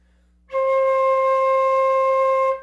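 A single steady flute tone played with the lips pulled back, held for about two seconds, bright and slightly thin, starting and stopping cleanly with no talking.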